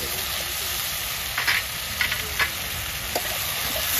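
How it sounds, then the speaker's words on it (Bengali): Spice masala sizzles steadily in oil over an outdoor wood fire, a constant bright frying hiss with a few sharper crackles and stirring scrapes. "মশলা 2 মিনিটের মতন ভাজা হয়ে যাক"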